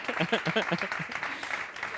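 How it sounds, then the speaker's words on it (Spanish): Audience applause at a panel debate on mental health, clapping that starts under a voice speaking and continues as a lighter, thinning patter. "Un aplauso para mí."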